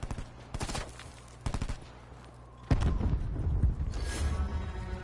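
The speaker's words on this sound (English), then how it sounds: "Throwing grenade." Gunfire and a grenade blast in an infection-mode shooter game: two quick bursts of rapid shots, then a heavy booming explosion that rumbles and fades, with no talking.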